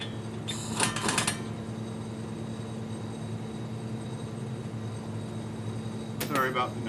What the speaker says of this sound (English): That's the air compressor.